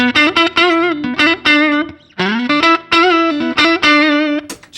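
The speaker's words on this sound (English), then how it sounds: "Instead of an auto wah, I've got an octaver." Electric guitar run through an octaver pedal into a Roland JC120 amp, playing sustained, thick tones with a doubled lower octave, loud and upfront in repeated bursts of notes with short gaps between phrases.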